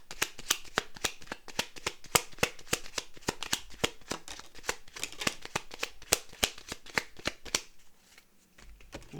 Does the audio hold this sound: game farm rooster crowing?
no